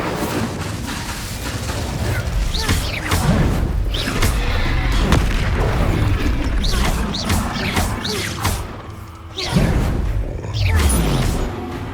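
Spell blasts in Hogwarts Legacy, a dense run of loud booming explosions, crashes and whooshing bursts in quick succession, with brief lulls between volleys.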